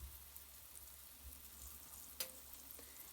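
Quiet, steady sizzling of dough frying in hot oil, with a faint crackle and a small pop partway through.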